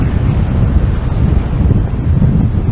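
Black Sea waves and strong wind at the shore, a loud, continuous roar of surf with heavy wind buffeting the microphone, steady throughout with no voices.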